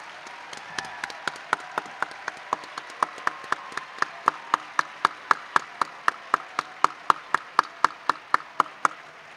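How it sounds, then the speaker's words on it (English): An audience at an awards evening honoring county teachers of the year breaks into applause, a steady run of sharp, evenly spaced claps that grows slightly louder and more distinct toward the end, with no voices over it. "while you are applauding"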